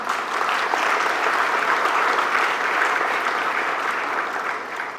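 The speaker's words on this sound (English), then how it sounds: "let's give him a round of applause" Sustained audience applause at the launch of an IPO prospectus for HI Mobility Berhad, a dense, steady clapping from a full room lasting throughout and fading slightly at the end.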